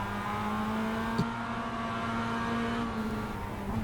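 Mazda MX5 race car engine at Okayama during a Sunday Drivers Cup race, a steady droning hum with a brief spike, heard from inside the car, with no talking.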